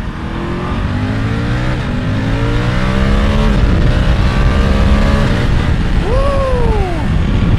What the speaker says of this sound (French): Alors écoutez-moi cette petite accélération.